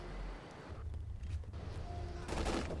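Gunfire rattles in Ghost Recon Future Soldier multiplayer, bursts of rapid shots mixed with low booms, moderately loud against busy battlefield noise, with a heavier volley near the end.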